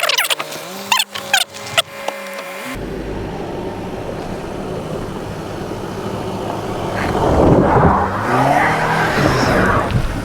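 A Kia Sorento X-Line's tires spin on an off-road hill climb, a sustained churning roar with engine strain that follows a few sharp knocks and grows louder toward the end.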